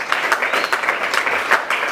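A church congregation applauds during a Sunday worship service, with a steady, dense wash of clapping and rhythmic surges in volume. It is close and continuous, and no voices rise above it.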